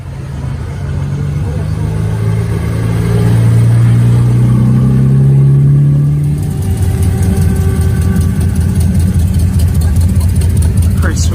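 A rat rod's engine idles at an outdoor car show, a steady low rumble that swells louder for a few seconds before settling back to an even idle, with people chatting nearby.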